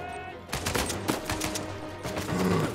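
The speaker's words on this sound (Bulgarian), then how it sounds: "Ти им чуш стреля с някакви много тежки патрони." Heavy gunfire rattles through a combat scene in the video game Uncharted 4, with rapid overlapping shots forming a continuous, dense barrage for a few seconds and no talking.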